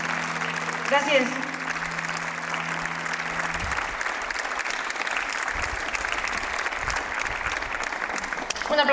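An audience at a live concert applauds after a song, warm sustained clapping that begins as the last note fades and continues evenly through to the end.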